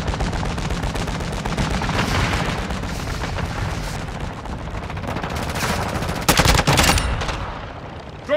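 Rapid automatic gunfire and booming shots from Call of Duty multiplayer on PS5, in an Invasion battle, dense and continuous throughout with a louder burst of blasts near the end.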